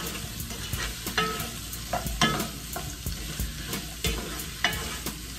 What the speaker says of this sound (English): So you want to give this a nice stir.